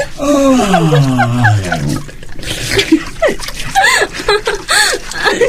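Water is poured and splashes during a bath in a Quechua radio drama, with bursts of splashing between voices talking and laughing close by.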